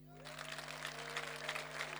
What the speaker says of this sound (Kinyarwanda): mwayikomera amashyi